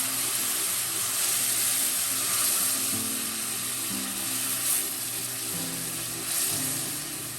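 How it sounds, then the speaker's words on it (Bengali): Onion and spice masala with coriander and cumin powder, plus a little water, frying in a pan for fish curry; a steady broad hiss runs throughout with faint low hum underneath, no talk. "এখন এর মধ্যে সামান্য জল দিয়ে মশলাটাকে একটু কষিয়ে নেবো"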